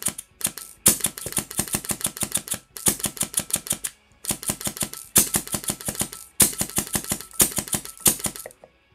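Mancraft PDiK airsoft engine firing in rapid bursts under fast trigger clicking, a loud, close, sharp mechanical clatter of repeated shots in clustered strings with brief pauses between bursts.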